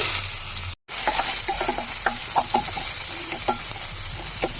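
Cumin seeds, chilli and chopped onion hitting hot oil in a pan, a loud steady sizzle with scattered crackles and the scrape of stirring, after a short silent break near the start.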